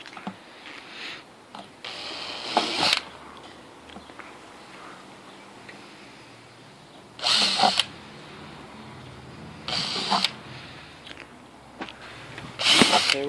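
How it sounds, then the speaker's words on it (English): A power drill bores holes into a plastic bucket in several short bursts separated by pauses, each burst a sharp, close whine against a quiet room. "Drilling some holes to mount it now."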